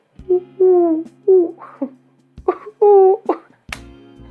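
A Eurasian collared dove coos in repeated three-note phrases, clear and fairly close, with short pauses between calls and a few other brief sounds in between.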